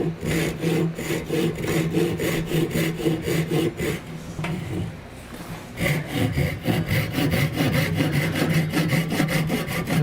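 Hand saw cutting a stop cut into a wooden workpiece, with steady rhythmic back-and-forth strokes, loud and close, briefly pausing midway before resuming.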